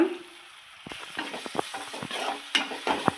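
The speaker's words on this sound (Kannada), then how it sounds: "ಶುಂಠಿ ಬೆಳ್ಳುಳ್ಳಿ ಪೇಸ್ಟ್ ಒಂದು ಸ್ಪೂನ್ ಇದನ್ನ ಒಂದು ಸ್ವಲ್ಪ ಫ್ರೈ ಮಾಡ್ಕೊಳ್ಳೋಣ" Ginger garlic paste fries in hot oil with sambar powder in a pan, sizzling steadily while a spoon scrapes and stirs in repeated strokes, close and fairly loud.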